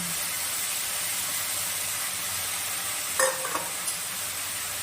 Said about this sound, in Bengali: এবার আরেকটু ভালো করে নাড়াচাড়া করে নিব